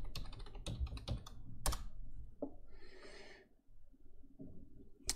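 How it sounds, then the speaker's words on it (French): Typing on a computer keyboard, with a rapid cluster of sharp, close clicks and taps in the first two seconds. The keystrokes then thin out into a few scattered presses over faint background noise. "faut que je tape son nom"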